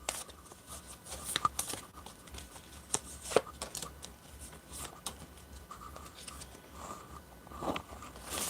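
Tarot cards shuffled and pulled by hand, quiet rustling and soft flicking with a few sharper snaps, close and low in level, no talking.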